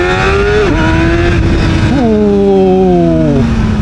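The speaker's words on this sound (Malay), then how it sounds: "Memang kena tarik RPM panjang lah, baru rasa dia punya power dia tu." A ZXMOTO 500RR sport motorcycle engine revs hard and loud, pitch climbing and then falling through gear changes, rising again after a brief dip, with steady engine drone throughout and no talking.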